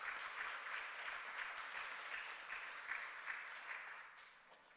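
Church congregation applauding during a Sunday morning service after a long-service award to a church school teacher, a steady wash of many hands clapping at moderate distance, continuous for several seconds and easing slightly toward the end.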